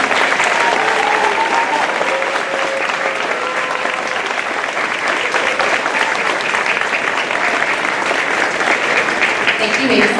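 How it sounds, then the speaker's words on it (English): Audience applause at a school strings concert honoring young students, sustained and even clapping from a crowd lasting throughout, with a voice speaking faintly underneath. "Can we give those students a round of applause?"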